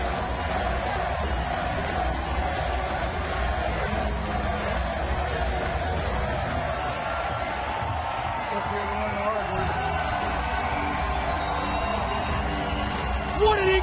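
A packed, standing-room-only professional wrestling crowd at the Impact Zone cheering and yelling, a continuous roar of whoops and shouts under a commentator's voice.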